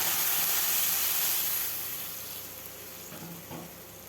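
Hot water poured onto fried hilsa fish head and mung dal sets off a loud, steady sizzle with hissing steam that gradually fades over a few seconds.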